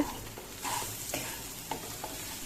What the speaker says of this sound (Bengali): এখানে হচ্ছে পেঁয়াজ রসুন লবণ আর মশলাগুলোকে আমি হালকা করে একটু ভুনে নিচ্ছি